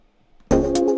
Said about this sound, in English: I'm just going to automate this clap to make a big splash.